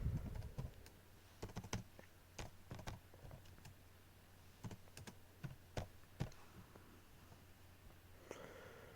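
Keys clack on a computer keyboard as a channel name is typed in on Windows 8, irregular close taps in short bursts with quiet pauses and faint breathing.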